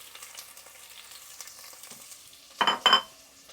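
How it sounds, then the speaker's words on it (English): Shrimp dropped into hot oil in a pan for a seafood stew, a soft steady sizzle building into two loud sharp hisses close by near the end, with no speech. "So into this, you want to add your shrimp."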